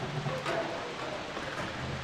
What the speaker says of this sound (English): it's pouring with rain all of a sudden.